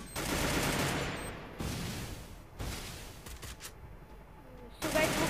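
Gunfire rattles in the Free Fire battle royale game, with dense bursts of rapid automatic shots at the start and renewed volleys every second or so, loud and close.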